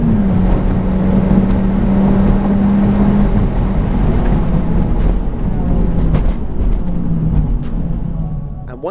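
A Mitsubishi Lancer Evolution makes a quarter-mile drag run, its loud engine roaring steadily with gear changes and dipping in pitch as it pulls away.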